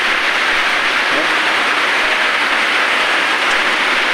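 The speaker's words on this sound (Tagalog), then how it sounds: "Kusog kayong ulan guys." Heavy rain pours in a dense, constant hiss, loud and close, with a voice faintly under it.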